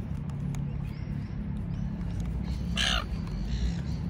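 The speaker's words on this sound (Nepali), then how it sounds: "चराहरू" Hungry birds call outdoors in Sutherland Shire: one loud, harsh call stands out near the middle, with fainter, shorter calls earlier, all over a steady low background rumble.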